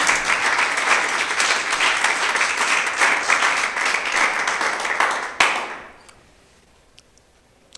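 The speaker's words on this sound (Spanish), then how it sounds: "Dale un fuerte aplauso a Jesús." A congregation gives loud applause during a Spanish-language church sermon, dense sustained clapping for about five seconds before cutting off abruptly and fading into a quiet room with a few faint knocks.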